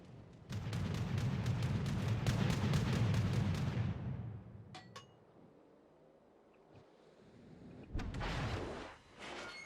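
Heavy naval gunfire from a battleship in World of Warships rumbles in a loud sustained roar for several seconds, then fades to a quieter spell with a few sharp clinks before a second booming salvo.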